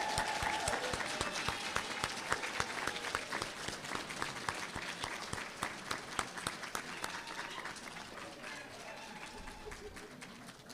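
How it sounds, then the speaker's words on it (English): A graduation crowd at a practical nursing and dental assisting ceremony gives a sustained round of applause, dense rhythmic clapping from many hands that stays fairly even before fading slightly at the end. "Can we have one more round of applause for all of our graduates today?"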